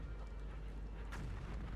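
Rumbling artillery strikes in the WWII strategy game Sudden Strike 3, a dense continuous low roar of distant shelling with no clear separate blasts.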